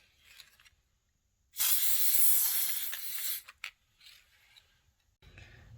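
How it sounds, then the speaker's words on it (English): An aerosol can of spray adhesive sprays in one long, loud hissing burst of about two seconds, followed by a couple of short puffs and quiet handling noises. "I'm going to spray this craft bond to help my stencil stay on better."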